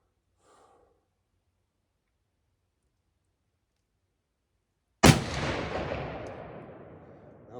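A single loud rifle shot from a Winchester Model 670 chambered in .300 Win Mag cracks out at a shooting range after several seconds of near silence, its boom rolling off and decaying slowly.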